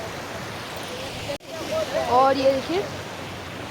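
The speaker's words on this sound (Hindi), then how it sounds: "ये बहुत रफ्तार है पानी का, आप लोग देख सकते हो।" Fast floodwater rushes through a village in Assam with a steady, broadband roar heard close by, and someone speaks over it.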